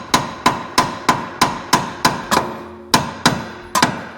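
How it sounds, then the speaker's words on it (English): A hammer taps on the steering knuckle of a 1998–2011 Ford Ranger to free a ball joint, producing about a dozen loud, close metallic blows in a steady rhythm of roughly three per second, each with a short ringing decay. "See if tapping it helps."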